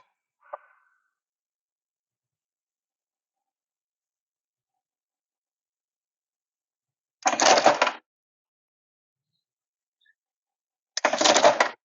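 Ibico EP-28 table top electric punch runs in two short, loud mechanical bursts about four seconds apart, with a faint click early on and silence in between.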